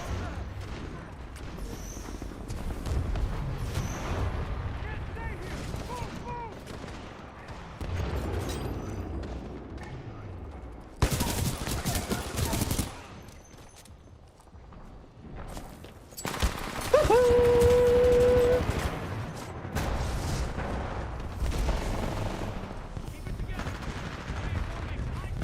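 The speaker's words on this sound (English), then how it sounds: "It's just a fucking grenade launcher." Grenade launcher blasts and gunfire in a video game, repeated booming explosions and bursts of shots over a continuous rumbling battle din, with voices talking over parts of it.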